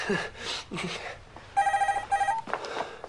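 A telephone bell rings in two sharp bursts indoors, preceded and followed by soft talk and movement, the rings loud and close.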